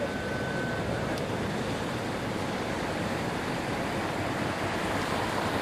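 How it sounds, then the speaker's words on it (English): A soliton wave surging up the River Carron at Stonehaven, Scotland, heard as a continuous broadband rush of moving water, steady and fairly loud outdoors, with no distinct breaks. "Small wave coming up."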